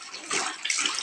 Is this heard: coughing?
no